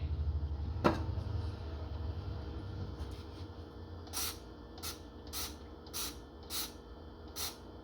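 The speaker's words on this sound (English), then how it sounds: "Now let's spray." A trigger spray bottle of cleaner fires a series of about seven quick, soft, evenly spaced spritzes at close range, following a brief louder knock and some quiet handling sounds.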